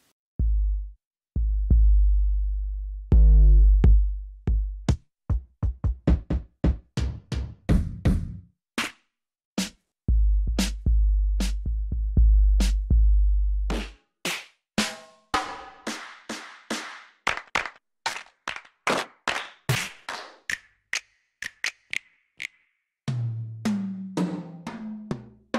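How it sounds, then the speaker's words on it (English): Beat from a free drum kit VST plugin, punchy kicks, snaps, claps and tight hi-hats in a steady electronic pattern, clean and alone with no voices. "not only because of these extra sounds like snap and clap and the tight hi-hat"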